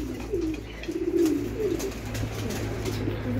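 Pigeons coo in a loft, where the cocks have been moved aside so the hens can sunbathe. Soft, low cooing repeats in overlapping phrases close by, with a steady murmur of birds underneath.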